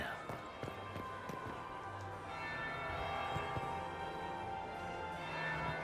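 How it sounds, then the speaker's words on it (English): Bells toll in the Dragon Age: Inquisition video game, with sustained ringing tones over a low rumbling backdrop, growing slightly fuller partway through, with faint voices underneath. "That would be the second bell."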